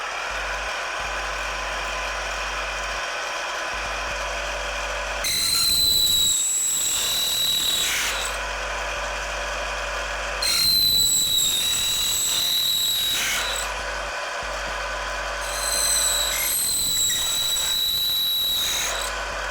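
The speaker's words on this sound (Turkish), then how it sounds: "Şimdi formunu verdiğimiz boynuzlarımıza en önemli olan diş açma işlemini yapacağız." Power tool cutting teeth into a shaped horn comb blank in a workshop, three loud whining grinding bursts of several seconds each, separated by quieter motor hum.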